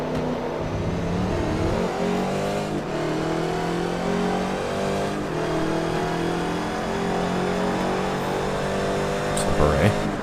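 Race car engine in Forza Motorsport 3 holding high speed around 160 mph in sixth gear, a loud sustained drone that barely rises in pitch, with a voice talking over it throughout.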